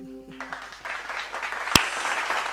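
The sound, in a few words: audience applauding singers after an acoustic live performance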